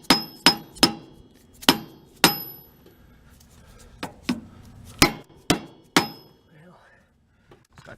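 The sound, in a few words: hammer tapping a suspension block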